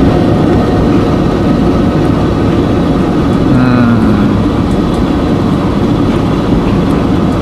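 A loud, continuous rumble and roar of a train climbing a mountain railway in the Pyrenees along cliffs, steady throughout with a faint rising squeal partway through.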